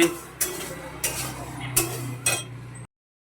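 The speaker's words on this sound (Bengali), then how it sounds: "এই হচ্ছে ডাল ভাজি" Mung lentils being stirred and fried in a pan on a gas stove, with a spoon scraping and clinking against the metal in four or five sharp strokes over a low hum, close and moderately loud, then abrupt silence.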